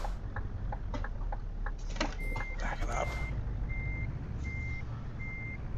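Repeated electronic reversing beeps from a truck in Euro Truck Simulator 2, evenly spaced single tones over a steady engine drone, with a few clicks in between.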